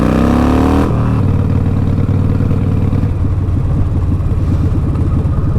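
A Harley-Davidson motorcycle engine running loud and close while being ridden, with a steady rumbling throb and a shift in pitch about a second in as the bike pulls away.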